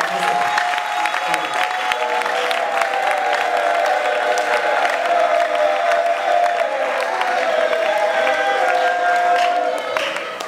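A church worship audience claps and cheers to welcome a speaker, a dense, loud, sustained wash of applause mixed with crowd voices and tonal music or singing underneath.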